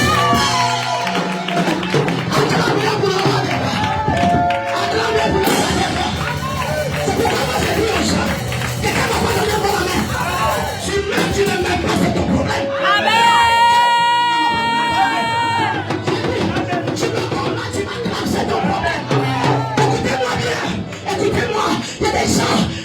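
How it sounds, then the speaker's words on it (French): A church congregation acclaims the Holy Spirit, a loud crowd roaring and cheering continuously with music and voices mixed in throughout. "Acclame pour le Saint-Esprit."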